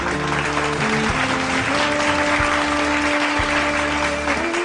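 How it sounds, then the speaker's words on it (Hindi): Audience applause at a Human Rights Day event, steady and sustained over a sustained hum and tonal background, with no clear speech on top. "दोस्तों जोरदार तालियां"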